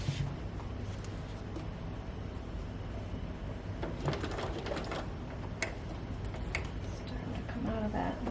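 A sewing machine stitches a rolled hem in fabric, giving a steady close mechanical whir with rapid ticking and a few sharper clicks as the stitching runs on.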